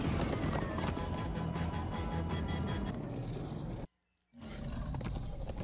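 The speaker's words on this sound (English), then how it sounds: "Horses." Horses in the Minecraft Story Mode video game, with rapid clip-clop hoofbeats and game sounds in a loud continuous stretch that briefly drops out to silence before resuming.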